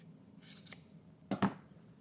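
Scissors snip through coat fabric at the neckline during a sewing project, a few quiet, close cuts with two sharp snips near the end.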